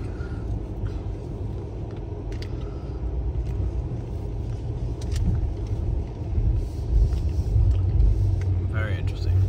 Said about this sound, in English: And then we're going to drive onto the train.